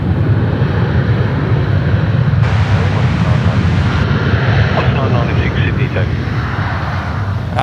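A long, heavy Airbus A330-300 airliner rumbles at Sydney Airport in a steady, dense engine roar at close range, while people chat over it.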